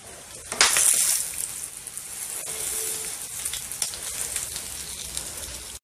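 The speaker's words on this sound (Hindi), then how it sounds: "इसके साइडों को पलटते हुए, उलटते पलटते हुए इसको गोल्डन ब्राउन होने तक फ्राई करेंगे।" Mutton koftas frying in oil in a pan: a steady, loud, close hiss and sizzle with crackling, swelling briefly near the start and continuing without talk.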